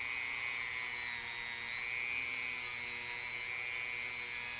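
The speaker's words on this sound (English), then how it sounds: "We're just letting the polishing compound and the wheel do the work." A Dremel rotary tool spins a polishing wheel loaded with polishing compound while cleaning parts of a 1987 Charvel Model 2 guitar, giving a steady high-pitched whine that stays constant and close throughout, with no speech.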